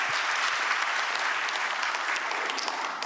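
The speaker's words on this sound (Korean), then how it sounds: "박수 부탁드립니다." A large audience applauds at a government national policy report event, with steady, dense clapping throughout and no speech.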